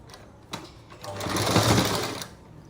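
A sewing machine makes a short, close stitching run while tacking a small blouse tassel, whirring up for about a second and then stopping.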